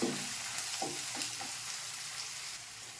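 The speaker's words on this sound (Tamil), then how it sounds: "அதையும் நல்லா வதக்குவோம் கொஞ்சம்" Steady sizzling of onions sautéing in hot oil, with a few soft stirring scrapes early on; continuous and close, no voices.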